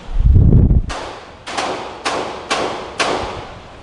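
Walther PPQ pistol firing on a range: after a low thud, four sharp, loud shots ring out at roughly half-second intervals, each with a short decaying tail.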